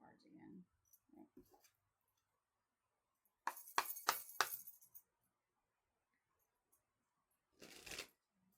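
Tarot cards riffled and shuffled at close range in a quiet room, a quick burst of crisp flutters followed later by a second short run, with some soft handling noises and a voice early on.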